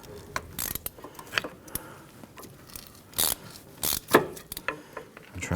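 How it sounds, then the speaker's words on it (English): Metallic ratcheting, clicking and scraping as seized Allen bolts on a 1999-2004 Jeep Grand Cherokee parking brake are turned and pried, irregular close-up clanks and creaks with no talking. "I'm going to turn this and pry."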